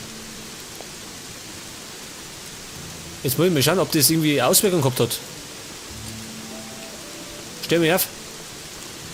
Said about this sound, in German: Es rauscht so komisch schön. Scheinbar soll das Regen sein.